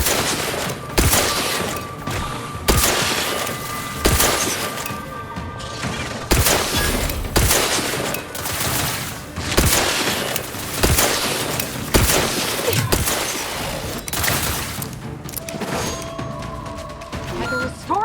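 Dense gunfire from a sci-fi shooter game rattles on without a break, with bursts, sharp single shots, booms and crashes stacked close and loud, a few tonal game effects mixed in, and occasional voices underneath.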